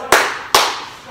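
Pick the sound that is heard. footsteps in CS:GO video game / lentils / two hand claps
two hand claps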